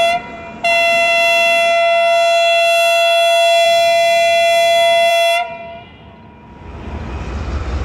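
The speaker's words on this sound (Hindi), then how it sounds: "अगर आपका ध्यान हो भी तब भी इंजन का हॉर्न आपको हिला सकता है" A loud, sustained diesel locomotive horn on an Indian express train blasts steadily for several seconds with a rich harmonic chord, then cuts off, leaving rumbling train noise.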